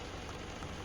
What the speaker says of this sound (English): like Slovenia, it's still raining